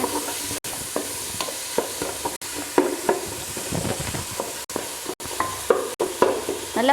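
Onions and other ingredients sautéing in oil for biryani, with a crackling sizzle broken by repeated scraping stirs and brief clatters of the spoon against the pan.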